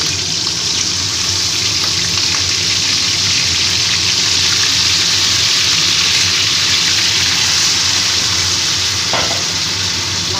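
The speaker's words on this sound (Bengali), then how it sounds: "এবার আস্তে আস্তে ম্যারিনেট করা মাংসটা দিয়ে দিচ্ছি" Marinated mutton is added to a pan of fried tomatoes and sears for a Bengali mutton kosha. A loud, dense sizzle runs unbroken throughout, close up, with occasional stirring scrapes.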